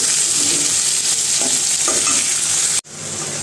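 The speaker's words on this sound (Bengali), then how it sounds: "এখন সব সবজি একটু হালকা করে ভাজবো।" Mixed vegetables, including drumsticks, fry lightly in a pan for a fish curry. Close sizzling carries a few scraping stirs, then stops abruptly just before the end.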